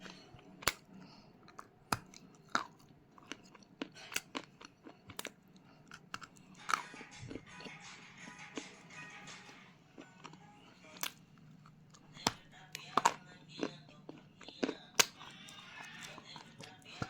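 White creamy slate pencils bitten and chewed up close, sharp crisp crunches repeating at irregular intervals over soft mouth sounds, with faint background noise.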